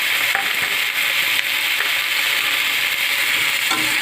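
Ginger and onion paste fries in a pan for a fish and cauliflower dish, giving a steady, close, dense sizzle with occasional soft stirring scrapes throughout.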